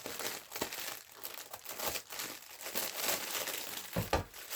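Someone wrestles open a securely taped plastic packet, with bursts of crinkling and crackling plastic close by in uneven handfuls and a few sharper tearing rips.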